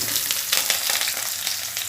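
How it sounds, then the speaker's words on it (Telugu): Ridge gourd pieces hit hot oil in a pan and fry with a dense, continuous close sizzle, loud and even throughout with no voices. "ఇప్పుడు బీరకాయ ముక్కలు వేస్తాను ఇందులో."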